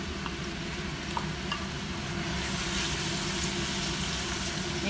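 Cuttlefish hits a casserole of already softened, browning onion and fries with a steady, close, crackling sizzle, with light stirring scrapes over the hiss.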